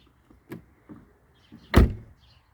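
A solid Mercedes E-Class W211 door shuts with one loud, deep thud, after a few softer knocks and clicks; the close, heavy closing stands out clearly.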